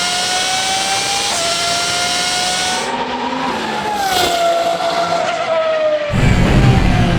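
A very loud car engine holds a high, steady tone while driving, rising and dropping in pitch through gear changes with brief tire squeal, then giving way to a deep rumble at the end; no one speaks.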